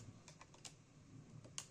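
A back cover is pressed onto a Samsung A20 phone during a screen replacement, giving a series of faint, sharp plastic clicks scattered irregularly, with a slightly louder snap near the end.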